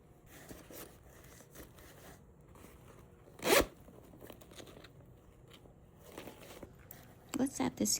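A pencil case zipper, handled while an order is packed, gives one quick, crisp pull partway through and a few short, scratchy zips near the end against a quiet, rustling background.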